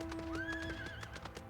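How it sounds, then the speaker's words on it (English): A horse mount in Final Fantasy XIV whinnies over quick, rhythmic clip-clop hoofbeats during a brief gallop, up close with no talking. "Horsey."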